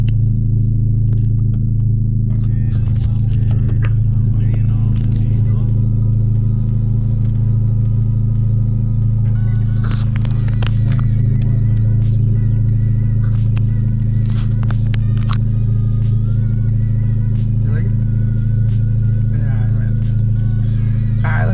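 A Honda Civic Type R running an open downpipe drives along, a heavy continuous engine drone and rumble heard from inside the cabin with rising intensity, while people talk over it now and then.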